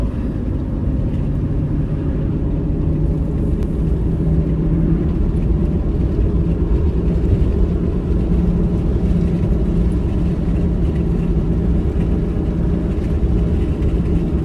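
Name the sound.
passing road traffic heard while trail running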